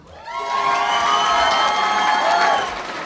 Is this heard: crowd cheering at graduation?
yes